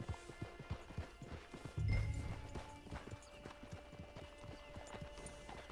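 A horse's hooves clip-clop at a steady walking rhythm in Red Dead Redemption 2, close and fairly faint, with a short soft thud near the start and no talking.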